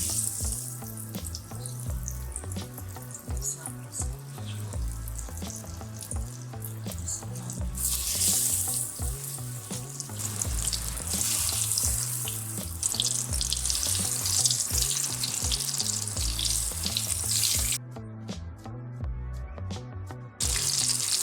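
Stuffed chilies deep frying in oil, a continuous dense bubbling and crackle that lasts throughout, with some swelling and a brief quieter patch near the end, over faint background music.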